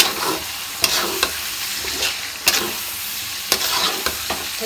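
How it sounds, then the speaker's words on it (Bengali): Spice paste frying in a pan, stirred with a spatula: continuous sizzle broken by regular sharp scrapes and knocks roughly every second, close and fairly loud, no speech. "এই যে মশলাটা সুন্দরভাবে কষানো হয়ে গেছে"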